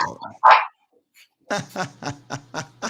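A German Shepherd and other dogs barking, one sharp bark followed by a run of six rhythmic barks close by, with a voice talking briefly at the start.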